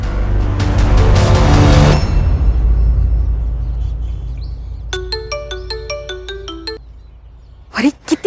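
A mobile phone ringtone plays a bright, repeating melodic pattern of electronic notes for about two seconds mid-clip, fairly clear, after a loud burst of dramatic background sound fades away, in a Hindi-Marathi crime drama.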